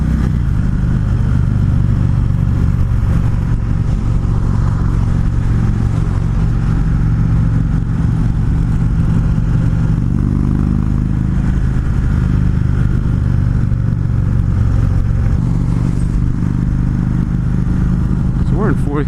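An Indian Chief Classic motorcycle engine cruises in fourth gear at about 3,000 RPM on a freeway at around 60 mph, giving a steady, loud, continuous drone with wind and road noise throughout.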